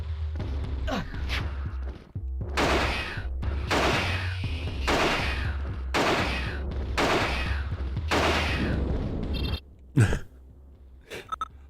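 Rapid gunfire in the survival horror game Alone in the Dark: The New Nightmare, six or so loud blasts spaced about a second apart over a low droning hum, followed by a few quieter clicks and thuds.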